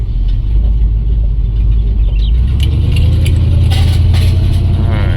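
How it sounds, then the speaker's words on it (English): 1972 AMC Ambassador driving and shifting from first to second gear, a loud, close engine rumble with mechanical rattles and a rise in pitch partway through, no talk. "Alright, back in first gear here. Going up to second."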